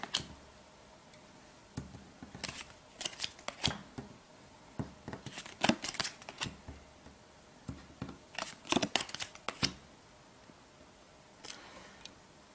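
Board game cards flipped face up on a table in Targi, a series of crisp, light snaps and clicks in scattered clusters, close and fairly quiet.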